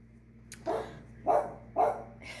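A dog indoors barks three times in quick succession, each a short, sharp burst at moderate distance, with no voices over it.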